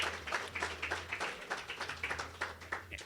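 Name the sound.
audience applause for forum candidates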